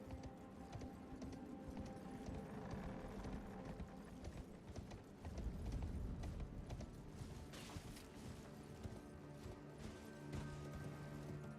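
Horse hooves clip-clop at a gallop in the Elden Ring video game, a continuous dense rhythm of hoofbeats inside a busy, loud game soundscape with mechanical noise and no talk.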